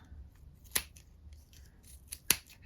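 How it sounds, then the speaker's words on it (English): Two crisp, isolated snips of scissors cutting crochet yarn while finishing a beginner's crochet beanie, each a sharp close click about a second and a half apart against quiet room tone. "just snippety snip."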